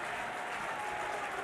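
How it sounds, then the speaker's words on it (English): Steady, dense applause fills a baseball stadium during a Georgia Tech game, where the head coach claps along with the crowd. No single pair of hands stands out from the mass of clapping. "He's just clapping."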